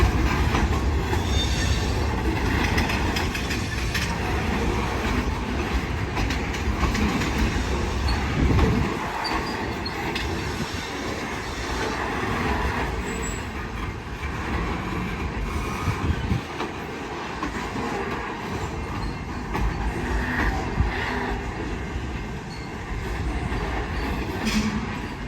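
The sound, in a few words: Portland and Western KRAFT switcher freight train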